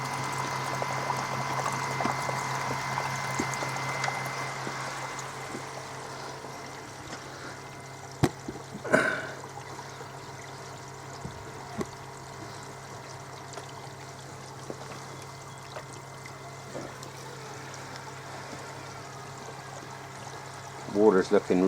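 Water pours steadily into a garden koi pond as it is topped up, a continuous soft splashing stream running throughout at moderate distance, with occasional knocks and clatter and a person talking over it at times.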